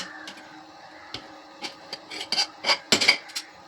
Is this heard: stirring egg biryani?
yes